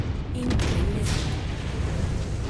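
Incoming missiles exploding in the MechWarrior mech game on a defense mission: two deep booming bursts over a steady loud rumble that stays heavy to the end.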